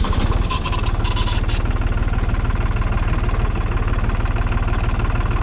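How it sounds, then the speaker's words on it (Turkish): A truck's engine idles steadily and loudly at close range after the starter is pressed, giving a continuous low rumble with an even rhythmic throb and no talk. "Ne denir şimdi bu marşa basarken?"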